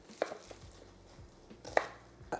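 A knife slices an onion in half on a board, making two crisp, close chops about one and a half seconds apart, each a sharp tap against the surface.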